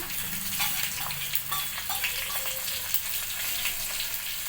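Green chillies, curry leaves and asafoetida crackling in hot tempering oil, an intense close sizzle with quick spitting pops that gradually settles into a steady hiss.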